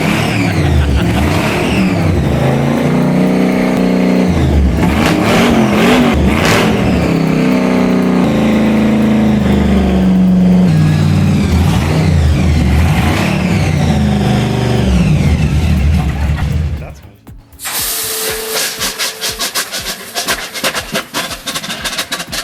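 A Mad Max-style combat car engine revs loudly, its pitch climbing and falling in repeated surges, then cuts off abruptly near the end and gives way to a different, harsher mechanical clatter.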